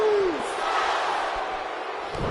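Crowd noise during a WWE 2K19 wrestling match, a loud, continuous roar of cheering that fills the whole brief moment with no pause.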